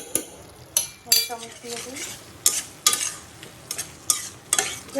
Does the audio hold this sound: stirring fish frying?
yes